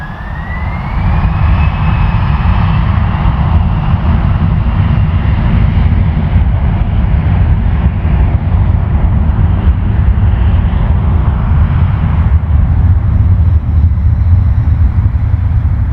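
Jet airliner taking off from runway 06 left at Toronto Pearson, a loud, steady broadband roar that holds strong throughout, with a rising engine whine near the start and no talk.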